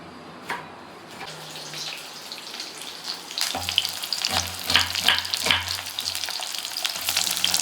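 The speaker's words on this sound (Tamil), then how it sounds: "ரெண்டு வெங்காயம் போட்டுருக்கேன்" Two onions frying in a pan for paneer butter masala, a loud continuous close sizzle that builds in intensity, with occasional stirring scrapes and clinks against the pan.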